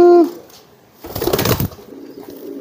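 A young pigeon gives a courtship coo, a short low cooing burst in the middle of the clip with a brief tonal note at the start and quiet surroundings around it.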